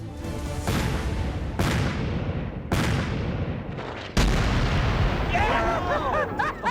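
An antique cannon fired by lanyard booms several times in succession, each a loud sharp blast with a long rumbling decay; distant shouting and whistling voices follow the last shot.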